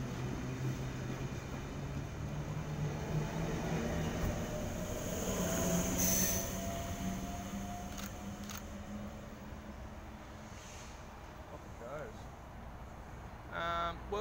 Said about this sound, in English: here departing from platform 1, the only platform here, we have S66 bound for Carlingford